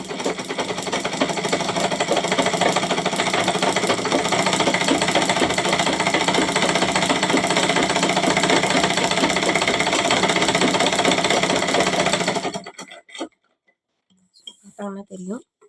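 A tailoring sewing machine pedalled with a sheet of paper fed through and no thread, giving a fast, loud, continuous mechanical clatter for about twelve seconds before stopping abruptly, followed by brief quiet sounds.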